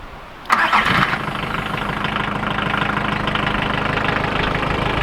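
A stock VW Caddy engine cranks and catches with a loud burst, then settles into a steady, even idle that rumbles on alone for several seconds.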